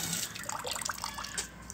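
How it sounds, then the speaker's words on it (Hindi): Water runs from a household tap in a steady, close stream, splashing and gurgling into a basin with slight fluctuations and no talking. "नाल आ रही पानी"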